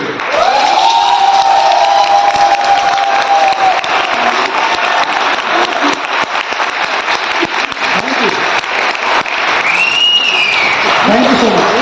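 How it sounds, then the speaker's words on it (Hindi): An audience at a company anniversary celebration applauds loudly and continuously, with cheering and whoops. A voice speaks over the crowd through much of the applause. "एक बार और अपने लिए ताली बजाइए।"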